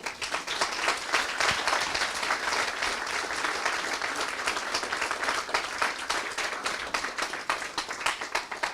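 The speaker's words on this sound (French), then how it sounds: "d'avoir soutenu les 2 lauréats, que nous allons applaudir bruyamment" Sustained applause from a large audience at an awards ceremony, dense steady clapping filling the whole stretch without a break.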